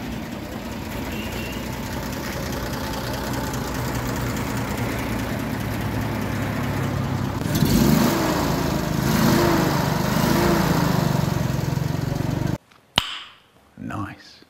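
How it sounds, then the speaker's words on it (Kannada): Engine of a vintage car with well over a hundred thousand kilometres on it, running smoothly in a steady drone close by, growing slightly louder midway before cutting off abruptly near the end, followed by brief knocks. "ಸ್ಟಿಲ್ ಇಂಜಿನ್ ಎಷ್ಟು ಸ್ಮೂತ್ ಮತ್ತು ರಿಫೈನ್ಡ್ ಇದೆ ಅಂತ"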